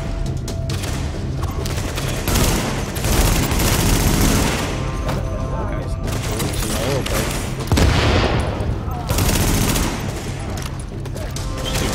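Gunfire in The Division during a subway morgue mission: dense automatic bursts and booming shots pile up continuously, loud and close, with game audio and scattered voice over the firing.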